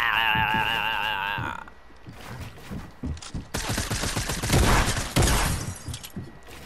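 Gunfire rattles in Fortnite, a burst of rapid, loud shots in the second half following a tonal in-game sound, with no voices over it.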